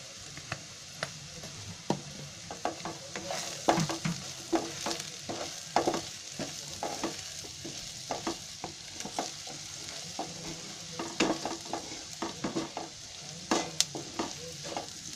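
Chillies, curry leaves and turmeric sizzle and fry in a pan for batata poha while a spoon stirs them, giving steady close crackling with frequent sharp scrapes and clinks of the spoon and no talking.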